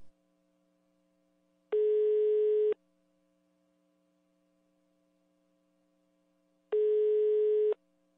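A telephone ringing tone on a prank call, two steady one-second buzzes spaced about five seconds apart over a faint constant line hum, no voices.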